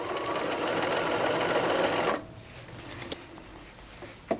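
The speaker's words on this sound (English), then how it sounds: "we can continue now and just sewing this edge around" A sewing machine stitches around a hem facing edge on a McCall's 7862 garment, running in one steady, fast, close burst for about two seconds before stopping, followed by faint handling clicks.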